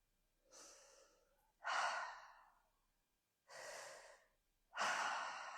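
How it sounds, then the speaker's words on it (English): Paced breathwork through the mouth, four distinct breath bursts, each a rushing airy inhale or exhale with pauses between, close and fairly loud, no talking. "Breathing in and out through the mouth."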